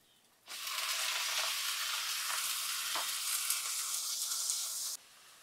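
Minced meat hits a hot pan of lightly browned onion and garlic, erupting into a loud, continuous sizzle that holds steady for about four and a half seconds before cutting off sharply.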